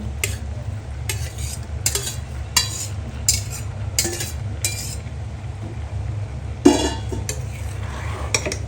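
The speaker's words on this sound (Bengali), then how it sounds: "এখন ভালো মতো নেড়ে চেড়ে পাস্তাগুলো মশলার সাথে মিলিয়ে নিব।" Boiled pasta being stirred into spices and a spoonful of sugar in a pan, with a steady run of spoon scrapes and knocks against the metal over a low continuous background hum, close and moderately loud.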